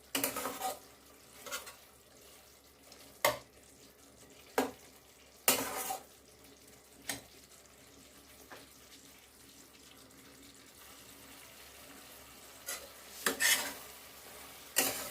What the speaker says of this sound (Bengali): আমি এই 5 মিনিটের মতন এটাকে নাড়াচাড়া করেছি